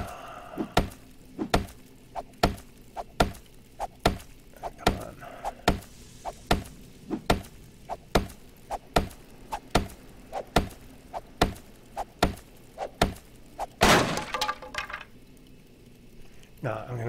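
Rapid, regular thwacks and cracks of crates being smashed open in the game 7 Days to Die, over twenty hits in a steady rhythm with game sounds and a voice in the background.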